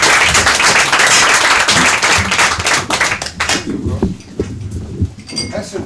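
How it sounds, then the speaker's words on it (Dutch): Loud crowd applause, dense clapping that thins out and fades after a few seconds. "Mag een applaus voor Hans Evers."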